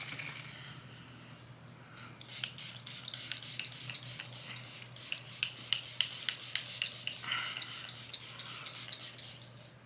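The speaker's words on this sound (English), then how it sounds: "I'm going to set my face. I'm trying to work through my Morphe Luminous Setting Spray." Quick repeated pumps of Morphe Luminous Setting Spray mist onto a face, soft and close, a run of short hissing bursts after a quiet start.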